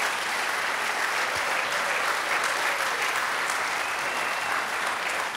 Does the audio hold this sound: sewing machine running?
no